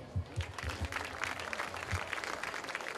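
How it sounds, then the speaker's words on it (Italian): Applause at an Italian award ceremony, a crowd clapping steadily for about three seconds at moderate volume, with a few low thumps near the start. "Un applauso."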